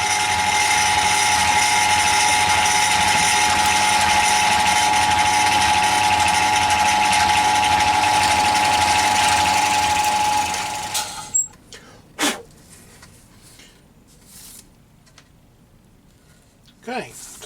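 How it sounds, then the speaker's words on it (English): Drill boring holes through wood for a tracker action keyboard, a loud steady whine for about ten seconds that stops abruptly, followed by a few sharp knocks and quieter handling sounds. "that's all our holes drilled through"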